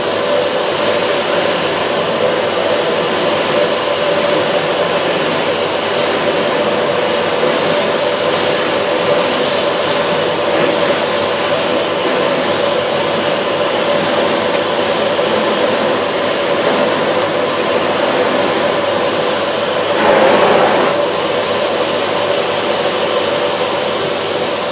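A Sebo Airbelt D2 Storm vacuum cleaner runs on its full power setting, giving a loud, steady whine and broadband roar that holds throughout, with a brief surge near the end.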